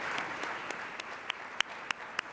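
Audience members applaud panelists at a club event with sparse, light clapping, a handful of sharp individual claps standing out against a quiet room over about two seconds.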